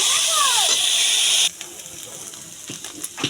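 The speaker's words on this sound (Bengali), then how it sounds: "এটাকে আগে সিদ্ধ করে রেখেছিলাম এটাকে একটু ভেজে নেব" Boiled turnip (shalgum) leaves hit a hot pan with a loud, steady steam hiss for about a second and a half, then drop to a faint crackle and sizzle with a few light pops.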